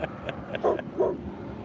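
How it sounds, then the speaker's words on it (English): A dog barks in short, excited bursts at a loud helicopter passing overhead, a few yips and woofs close by with no talking. "She's barking at the helicopter."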